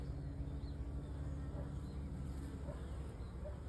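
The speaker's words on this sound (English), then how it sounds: "I think it's a bumblebee" A bumblebee drones near a bucket swarm trap outdoors, its low buzz faint and steady under a hiss of background noise, with a few soft chirps in the distance.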